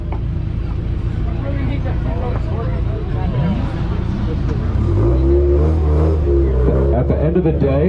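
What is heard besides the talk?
Subaru exhaust revving at an exhaust competition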